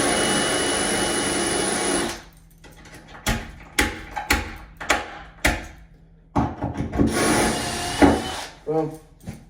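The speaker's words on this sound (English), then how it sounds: "All holes are drilled." Power drill boring a series of holes in wood, steady whine at first, then a string of short separated bursts with pauses between them, close and fairly loud.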